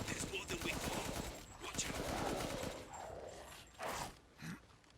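Assault rifle fire in Resident Evil Village rattles off in a quick burst of rapid shots, followed by someone talking and scattered game noises.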